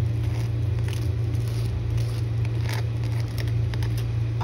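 Steady sizzling and crackling of a sandwich frying in butter in a pan, continuous and close, with a low hum underneath.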